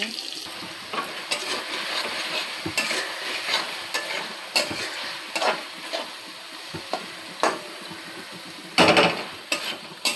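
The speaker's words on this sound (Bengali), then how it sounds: "বেগুন ভাজতে দিয়ে দিয়েছি।" Eggplant frying in oil in a pan, an even close sizzle punctuated by sharp spatula scrapes and stirring clatters.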